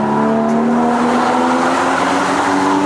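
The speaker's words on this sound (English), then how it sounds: "I love the sound of this car." A Porsche Boxster GTS engine revs hard and climbs in pitch as it accelerates on a winding Mallorca mountain road, loud and close, with a steady droning roar throughout.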